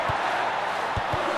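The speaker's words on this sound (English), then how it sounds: "The crowd is up for this, the players are up for this." A virtual stadium crowd in a FIFA football game roars as a steady, dense wash of cheering, with a few low thumps underneath and no speech.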